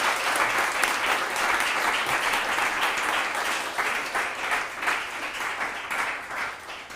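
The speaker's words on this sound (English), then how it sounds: "let's give them a round of applause" Audience applause for a panel at an artificial intelligence conference, a dense, sustained clapping from a full room that carries on evenly throughout.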